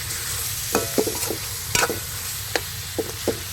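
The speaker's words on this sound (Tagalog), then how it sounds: "halo-haloin na natin" Bihon noodles are tossed and stirred in a sizzling pan, with several distinct scraping and clanking strokes of a utensil over a continuous close frying hiss.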